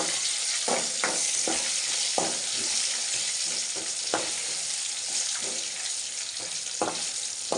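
Crushed garlic sizzles in hot oil with dried red chillies, a steady bright frying hiss broken by repeated soft stirring scrapes and clicks, no voices.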